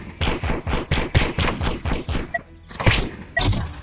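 Shotgun blasts in a video game repeat in a quick, heavy series of booming shots, with a short gap before a few more.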